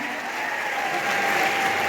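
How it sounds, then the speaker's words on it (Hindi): An audience at a UP Diwas event gives a sustained round of applause to welcome a local MLA. The dense clapping stays steady, with faint crowd murmur underneath. "हमारी विधायक अरकुंशी जी का भी जोरदार तालियों से स्वागत करें"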